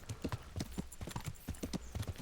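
Horse hooves clip-clop in steady rhythm while riding in Kingdom Come Deliverance, a medieval role-playing game, with regular hoofbeats close and clear throughout and no talk over them.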